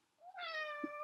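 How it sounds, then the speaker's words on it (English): A house cat gives a single drawn-out meow, clear and close, rising at the start and holding steady for nearly a second. "If you can hear my cat meowing, it might continue to meow."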